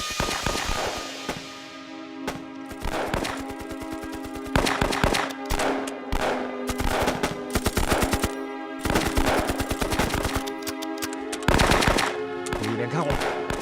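Machine guns rattle in a wartime battle against Japanese troops, loud rapid bursts repeating almost without pause, with shouting voices mixed in beneath the firing.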